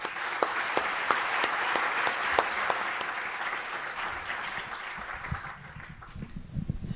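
An audience at a memorial lecture applauds warmly to welcome a lecturer, steady clapping from a full room that fades out toward the end.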